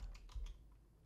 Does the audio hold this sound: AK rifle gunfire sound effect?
no